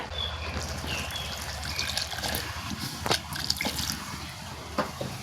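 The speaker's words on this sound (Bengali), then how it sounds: "এখন এখানে জল দিয়ে দিতে হবে" Water pours into a pan of boiled young taro leaves, a steady close splashing trickle lasting several seconds with a few brighter splashes, and no talking.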